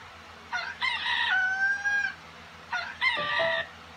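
A rooster crows twice, each call a long bright cock-a-doodle-doo with a quieter pause between, fairly clear against a soft background hum.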